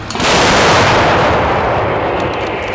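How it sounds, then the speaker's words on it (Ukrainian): A single heavy blast from a Bohdana self-propelled artillery gun erupts close by, its deep boom rolling out and slowly fading over a couple of seconds. "Розрахунки САУ діють швидко та рішуче. Постріл!"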